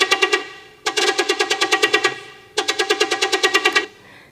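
Clonk sound run through an Ableton resonator, named Tube Clonk: two bursts of rapid, evenly spaced hollow resonant hits, like a ringing metallic tube tapped in a fast loop, loud and close with no speech.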